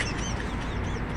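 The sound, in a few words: bird calling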